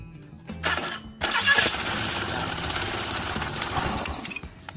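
A Honda Beat scooter's electric starter cranks the engine with a brief whir, then after a short pause a longer steady cranking, loud and close, with no talk.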